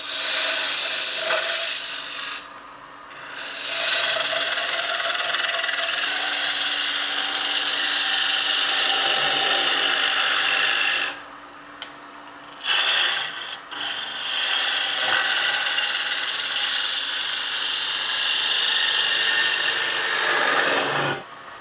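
Wooden spinning-top body turned on a lathe with a spindle gouge, giving a steady, loud, rasping scrape that runs nearly continuously, broken by two short pauses where the tool lifts off the spinning wood.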